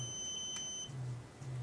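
A mobile phone radiation detector alarm sounds with a steady, piercing high electronic tone for under a second, then stops, leaving a low hum.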